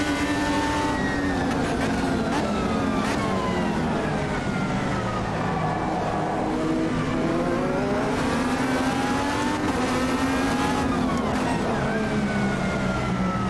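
A race car engine in the sim racing game Automobilista 2 revs loud and continuously, its pitch climbing and dropping through gear changes and throttle swells across the whole stretch, with no talk over it.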